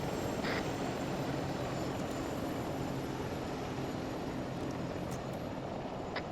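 Chinook helicopter engine in a military video game, a steady, close turbine drone with a constant rotor hum running unbroken throughout, with a couple of faint clicks near the start.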